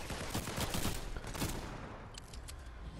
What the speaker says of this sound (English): we're severely being shot at